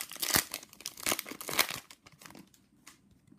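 A KHL hockey trading card pack is torn open, the foil wrapper crinkling and ripping in close, rapid bursts that taper to a few soft rustles.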